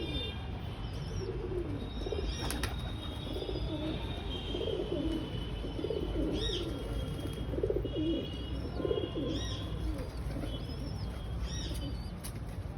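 Pigeons coo softly in a loft, low rounded calls repeating under a steady wash of background noise, with occasional higher chirps and faint wing sounds.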